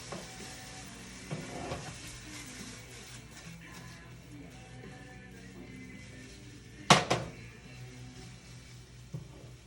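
Tomatoes browning in a pan with a soft, low sizzle and light stirring, broken by one sharp metallic clatter near the middle and a smaller knock near the end.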